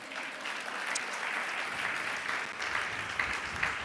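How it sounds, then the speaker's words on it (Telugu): A church congregation claps together in a sustained burst of applause, a dense, even patter of many hands heard from within the hall. "నమ్మిన వారు చప్పట్లు కొట్టండి"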